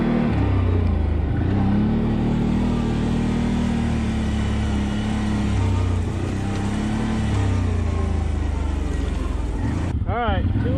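A CF Moto 800 XC side-by-side in two-wheel drive climbs a fairly steep hill with a loud, close, steady engine drone that holds throughout and rises to a brief whine at the end.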